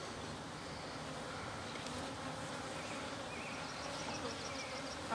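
Steady, dense buzzing of honeybees fills the air throughout an open beehive inspection in a beeyard, a continuous close hum with no talk.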